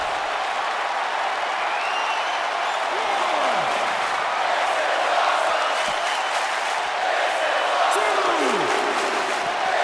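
Virtual arena crowd in WWE 2K19 during an NXT title match keeps up a dense, continuous roar of cheering and applause, loud and unbroken, with whistle-like calls rising above it.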